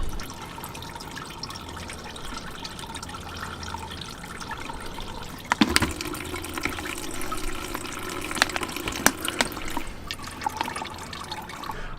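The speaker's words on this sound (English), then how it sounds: "So we're gonna drain the radiator." Coolant draining from the radiator of a Chevy C/K1500 pickup, a steady trickling pour of liquid into a container with a few sharp clinks partway through, continuous and moderately close.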